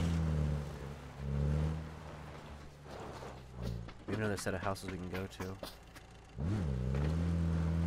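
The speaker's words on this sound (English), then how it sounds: "Yeah, I hear a car." Car engine in PUBG driving, a steady mid-low drone with revving swells, heard under conversation between players.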